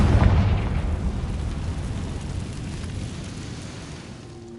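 A Confringo fire spell in the Hogwarts Legacy video game bursts with a deep, booming explosion right at the start, then rumbles and crackles as it fades away slowly.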